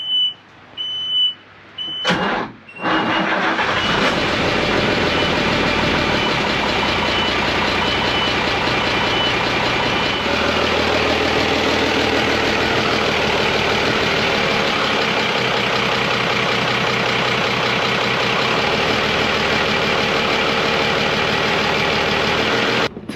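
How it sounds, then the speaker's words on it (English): Rebuilt boat engine at sea, running in neutral: a steady, loud mechanical drone that starts after a few brief bursts and carries on unbroken, with no talking. "We're just going to do a little lap with the engine actually working and the propeller spinning"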